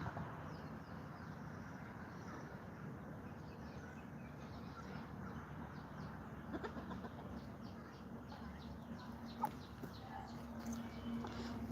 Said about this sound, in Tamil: கோழிகள்லாம் நிறைய அடையில் இருக்குது.